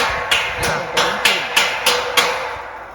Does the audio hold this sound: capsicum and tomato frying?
no